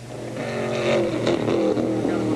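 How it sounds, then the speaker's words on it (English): Race cars lapping at the 1981 IMSA Kelly American Challenge at Brainerd, a steady loud engine drone with rising and falling revs from several cars, continuous throughout with no clear talk. "We have completed 12 of 25 laps, just about halfway through The 75-mile race as Vern Smith begins to close down"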